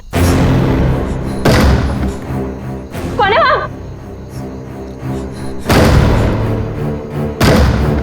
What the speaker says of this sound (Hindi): दरवाजा खटखटाना बंद करो।